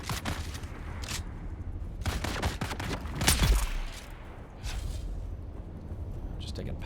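Gunfire in the survival game Dune: Awakening, with several sharp shots scattered over steady game ambience and one louder, heavier blast in the middle, heard under a quiet background bed.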